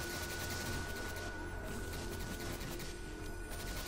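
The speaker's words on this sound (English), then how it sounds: "they're shooting us" Enemy gunfire in the shooter game Destiny, a dense, continuous rattle of rapid shots with faint mechanical clatter, steady and fairly quiet with no pauses.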